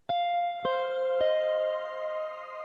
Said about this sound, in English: a little bit of reverb there going on with a shimmer